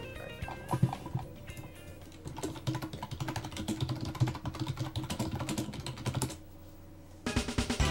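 Rapid clattering keystrokes on a computer keyboard run in irregular bursts, close and fairly loud, with a brief pause before a final flurry of taps.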